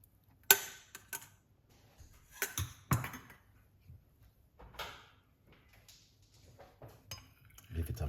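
A spoon clinks and scrapes inside a cup as a honey drink is stirred, a series of sharp, close metallic taps and knocks separated by quiet gaps.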